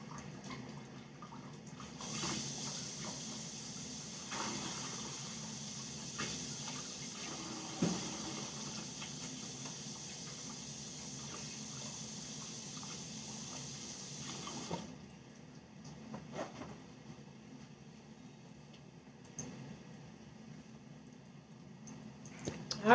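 Tap water runs steadily into a kitchen sink while hands are washed, a soft broadband hiss lasting about thirteen seconds before it cuts off, followed by faint clinks and rustles.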